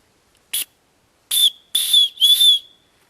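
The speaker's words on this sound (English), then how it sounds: "this particular one is a whistle built into the striker." A small whistle built into a ferro rod striker blows one short toot and then three longer shrill, airy blasts, loud and close, with no voices.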